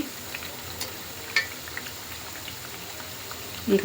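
Masala vadas deep-frying in oil give a faint, steady bubbling hiss with scattered small pops, ending in a brief louder clatter near the close.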